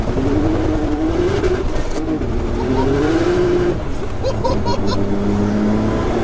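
A Nissan 200SX fitted with a swapped 530bhp GTR engine roars loudly and close by as it accelerates, its engine pitch rising and falling through gear changes.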